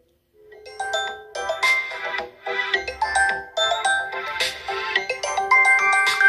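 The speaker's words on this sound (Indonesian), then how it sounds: "bisa dengarkan terlebih dahulu untuk nada dering WA HP Vivo saya. Nada deringnya seperti ini." A Vivo phone plays its WhatsApp ringtone, a bright chiming melody of repeated bell-like notes. It rings loud and clear for several seconds with no talk over it.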